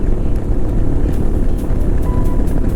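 A modified Royal Enfield Himalayan 411 motorcycle accelerating on the road, its steady engine drone buried under heavy, continuous wind roar.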